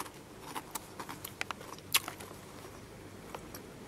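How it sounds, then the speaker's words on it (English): Crunchy caramel corn candy chewed close up, a run of sharp crisp crunches and bites with short pauses between them, no talking. "They taste exactly like caramelized popcorn, but with a crunch."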